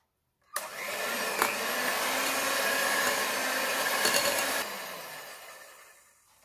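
Electric mixer beating plum cake batter as flour is added, a steady whirring motor running for about four seconds with a couple of brief clunks, fairly close and alone, then winding down.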